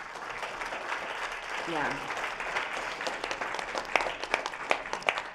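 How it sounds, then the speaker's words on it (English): Audience applause at a hackathon closing ceremony, a broad steady wash of clapping with a voice briefly rising over it partway through, then sharper individual claps standing out toward the end. "So applause."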